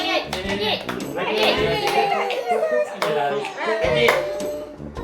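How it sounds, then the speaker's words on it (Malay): Family members clap their hands at a surprise birthday gathering at home. Scattered, close claps mix with overlapping children's and adults' chatter. "Tepuk tangan."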